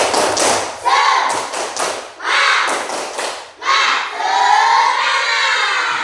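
Schoolchildren in a fifth-grade maths class perform a rhythmic 'tepuk semangat' clapping chant, bursts of claps and shouted chanting in loud groups, with a teacher's voice between phrases.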